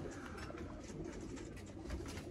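A breeding pair of older pigeons cooing softly and steadily, moderately close, against a continuous background hum, with no talking.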